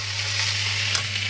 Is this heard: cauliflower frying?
yes